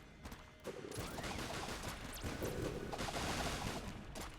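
Rapid gunfire from a bait launcher loaded with Helix bullets in the video game Enter the Gungeon, a dense, continuous barrage of shots and impacts lasting several seconds with game effects layered over it.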